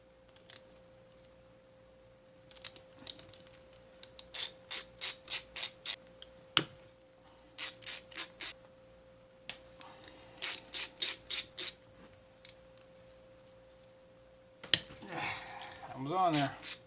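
A Snap-on screwdriver bit loosening carburetor bowl screws on a Yamaha Kodiak, heard as several short close bursts of rapid ratchet clicks separated by pauses, with a faint steady hum underneath and brief talk near the end.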